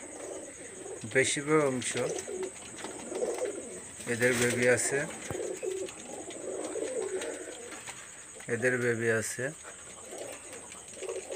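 Kamagar pigeons, a breeding pair with young, coo in repeated rolling bursts, three clear calling bouts spaced a few seconds apart, close by, while someone talks over and between them.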